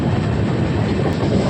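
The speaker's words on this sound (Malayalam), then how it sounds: "അപ്പോൾ ട്രെയിൻ അത്യാവശ്യം സ്പീഡിൽ പോകുന്നുണ്ട്." An Indian passenger train runs at speed through the Palakkad division toward the Bharathapuzha river, a steady loud rumble of wheels on rails with a faint rhythmic clatter.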